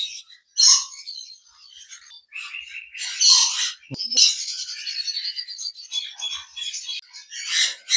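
Forpus parrotlets chirp at a bird farm in a lively, overlapping stream of high, bright calls and tweets, with short bursts and brief pauses throughout, fairly close and moderately loud.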